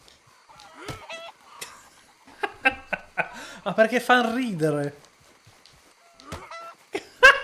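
Cartoonish chicken clucks and squawks from a video game sound in short bursts while two people talk and laugh in Italian over them.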